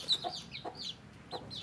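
Oriental cross chicks, bred from Donganoy stock and kept by backyard farmers, give a few high thin cheeps close by, spaced out irregularly over a faint background.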